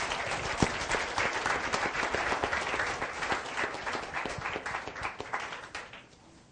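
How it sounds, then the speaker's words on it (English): Audience applause at a group workshop session, a full, dense burst of many hands clapping together that gradually thins and fades toward the end. "Give yourself an applause."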